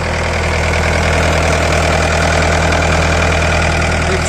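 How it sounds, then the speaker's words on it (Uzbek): An excavator's diesel engine idles close by with a steady, loud, low rumble and even mechanical knocking, holding unchanged throughout with no talk. "Ekskavatorimizning motor holatlari."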